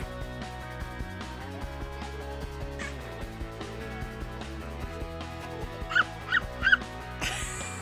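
A dog in a garden whimpers with drawn-out, whining tones, then lets out three quick sharp yips close by near the end.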